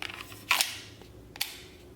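A standard magazine is inserted into an FN 509 Tactical pistol, producing two crisp metallic clicks about a second apart, close and moderately loud over a quiet room.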